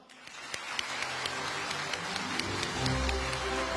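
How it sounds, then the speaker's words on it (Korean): An audience at a Korean business forum breaks into applause after the prime minister's keynote, the clapping swelling quickly and holding dense and steady to the end. "김민석 국무총리님께 다시 한번 박수를 부탁드립니다"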